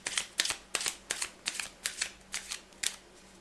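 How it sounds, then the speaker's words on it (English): A tarot card deck being riffle-shuffled close up, about ten quick crisp bursts of flapping cards in a steady rhythm, with no talk. "now you're getting even more shuffles"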